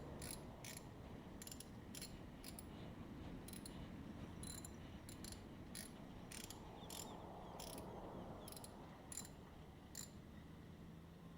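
A ratchet tightening down a spark plug in a garage, a series of quick sharp clicking bursts in uneven rhythm, close and fairly quiet over a low background hum, with no speech.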